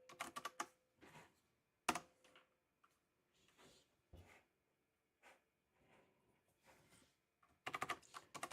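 Computer keyboard keys are pressed in scattered single taps and short quick bursts, close and quiet, with gaps of silence between and no talking.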